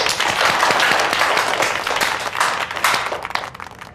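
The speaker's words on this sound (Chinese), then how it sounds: "来，大家鼓掌欢迎。" A small group in an office claps to welcome a new colleague. The applause is brisk and close, with distinct individual claps, and it thins out toward the end.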